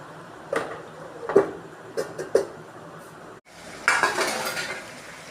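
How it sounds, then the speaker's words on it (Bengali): A metal lid clatters onto a pot of simmering rohu fish curry, with a few sharp clinks and knocks of cookware close by, followed by a brief gap and then a louder, denser burst of clatter and rattling. "এবার একটুখানি ঢাকা দিয়ে দেবো।"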